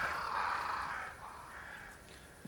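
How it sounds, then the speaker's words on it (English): Crows cawing in the video game Banishers: Ghosts of New Eden, a soft, drawn-out harsh call fading over a couple of seconds against a quiet outdoor ambience, fairly distant. "Crows."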